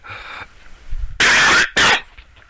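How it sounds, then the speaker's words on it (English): Two loud, harsh coughs in quick succession, close to the mic, after a moment of quiet. "these coughs are killing me"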